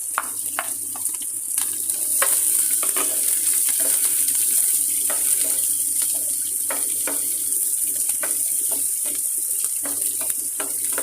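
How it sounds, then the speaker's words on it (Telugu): Sliced onions frying in a pan for tomato rice, a constant bright hiss with scattered sharp clicks and taps from stirring, close and steady the whole way, with no speech. "ఉల్లిపాయలను మాడకుండా ఎర్రగా వేయించుకోవాలి"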